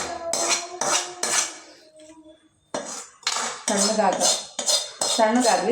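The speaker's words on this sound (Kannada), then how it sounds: "ಇವಾಗ ನಾವು ಗ್ಯಾಸ್ ಬಂದ್ ಮಾಡಿ ಇದನ್ನೆಲ್ಲ ಒಂದು ತಾಟಿಗೆ ತಣ್ಣಗಾಗ್ಬಿಡೋಣ." Fried ingredients for a dhaba-style paneer masala gravy are scraped from a pan onto a metal plate with a spoon, making loud, close bursts of clattering and metallic scraping broken by a brief lull.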